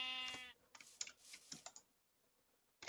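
A single sheep bleats in Minecraft, a short nasal wavering call at the start, followed by several quick clicks of computer keyboard typing and a burst of faint clatter.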